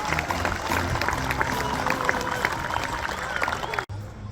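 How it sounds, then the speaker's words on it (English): A crowd applauding and cheering at full volume at Little League opening ceremonies, steady clapping with voices mixed in, cutting off abruptly near the end. "How about another round of applause for all our major sponsors"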